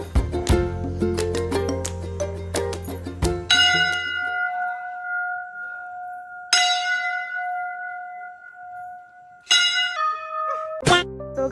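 A temple bell rings out in a series of metallic strikes, quick clangs at first, then longer ringing tones that hang and slowly decay before a few more strikes, clear and close with no talking.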